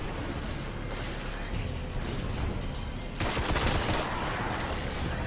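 Dense, continuous gunfire from the sci-fi shooter Destiny, a steady wash of rapid shots that swells louder about halfway through, with no pauses between bursts.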